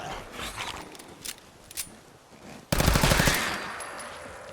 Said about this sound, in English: Stand still so I can shoot you.